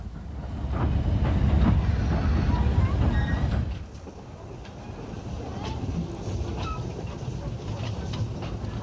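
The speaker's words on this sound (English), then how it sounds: "The train leaves Pendray station and begins to enter the lovely countryside." Talyllyn Railway steam train pulling away from Pendray station in Wales, a loud rumbling chug for several seconds that drops to a quieter running sound with faint rail clatter.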